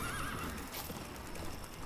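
In the Puppeteer video game, a horse whinnies loudly over fast, clip-clopping galloping hooves, set against a dense game soundtrack.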